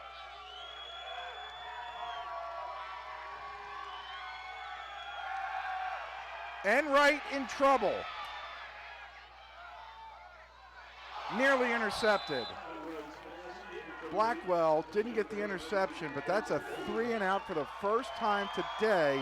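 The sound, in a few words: stadium crowd getting loud at a football game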